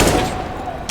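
Pistol shots ring out in a Counter-Strike: Global Offensive match at a live gaming event, a sharp report at the start and another at the end of a brief second, with faint commentary underneath.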